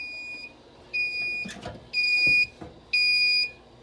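A Fire-Lite and Notifier MS-9200 fire alarm panel under test sounds three evenly spaced, half-second electronic alarm tones with a high, piercing pitch, close and loud, separated by brief gaps of faint clatter.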